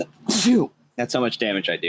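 A single sharp sneeze from someone at a tabletop role-playing game session, followed right away by a person talking.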